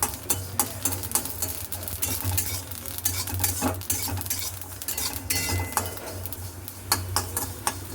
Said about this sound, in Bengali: কালো জিরে দিয়ে দিয়েছি এটা একটু ভালো করে ভাজা ভাজা করি